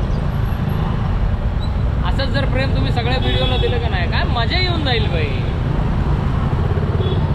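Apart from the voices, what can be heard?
road traffic noise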